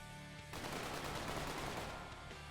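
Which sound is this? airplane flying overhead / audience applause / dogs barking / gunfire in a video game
gunfire in a video game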